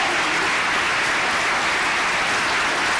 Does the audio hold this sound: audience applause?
yes